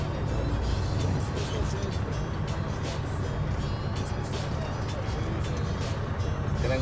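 A semi truck creeps slowly forward, its engine a steady low rumble and hum that stays even throughout, with faint background noise.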